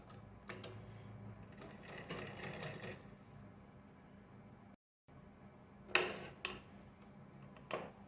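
A sewing machine stitching a strip onto a fabric bag with a frill, its rapid mechanical ticking coming in short bursts separated by pauses.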